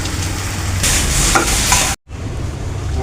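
Chicken masala frying in a pan, a loud steady sizzle with scraping stirring strokes, cut by a brief silence before the hiss resumes.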